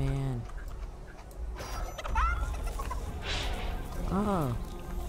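A chicken in the Fortnite video game gives a few short, clear clucks and squawks in separate bursts over a busy game background. A player's voice can be heard faintly alongside.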